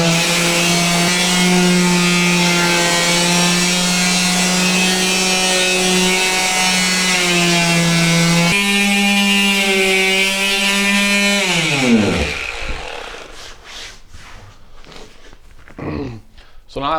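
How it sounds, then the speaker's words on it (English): A belt sander grinds textured paint off an interior wall in a loud, steady whine with strong tonal harmonics that shifts pitch once partway through, then winds down and stops, leaving a few scraping and knocking sounds. "you're going to want to go right for your belt sander"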